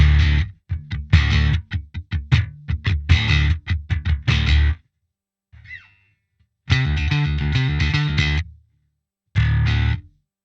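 Crunchy, distorted bass guitar tone in a bassist-style preset, heard as loud, rhythmic phrases of picked notes and chords in several bursts with short gaps, playing alone without any talking.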